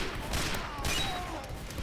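Rapid gunfire from Team Fortress 2 crackles in bursts over a steady game background, close and moderately loud with no voices.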